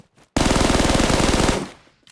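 Video game gunfire rattles out as one rapid, loud burst of automatic shots lasting just over a second, then dies away with no speech.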